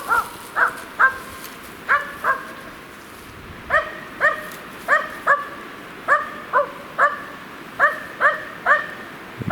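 A hunting dog barks repeatedly in short, evenly spaced yips at a pine tree, in bursts of two or three with brief pauses, moderately distant, with no one talking.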